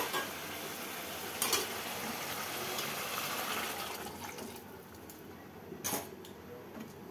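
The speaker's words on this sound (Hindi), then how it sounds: "तो ये देखो इसमें पानी डाल दूंगी अब।" Water pours steadily into chicken cooking in a pressure cooker, a continuous splashing wash with two brief louder surges near the middle and end.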